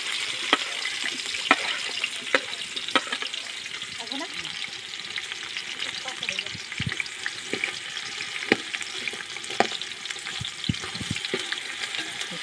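Onions frying in a pan for village-style biryani, a steady close sizzle with repeated sharp clicks and scrapes of stirring throughout.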